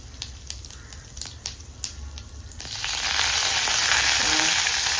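Cumin, mustard seeds, turmeric and asafoetida crackle in hot oil for pithle: scattered sharp pops and snaps at first, then a loud, dense sizzle swelling up as the spices hit the pan, close and without talk.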